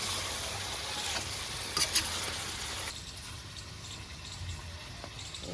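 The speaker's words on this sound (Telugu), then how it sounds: "మిరియాల పొడి వేసి మంచిగా కలుపుకొని" Chicken pickle cooking in oil with pepper powder being stirred through it, a steady close sizzle with a few scraping stir strokes, no voices.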